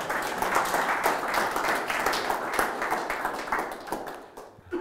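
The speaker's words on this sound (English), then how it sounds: "I'll take the clapping" An audience at a community solar talk applauds together, dense sustained clapping that carries on for a few seconds and then thins out.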